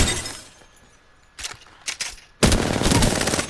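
Gunfire in the video game Apex Legends: a few sharp separate shots, then a loud sustained burst of rapid fire with a glassy, shattering edge.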